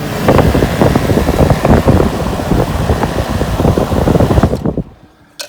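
A repaired air conditioning unit, fitted with a new capacitor, runs with a steady loud whirring fan roar after the power is switched back on. The sound holds for about four and a half seconds, then cuts off abruptly.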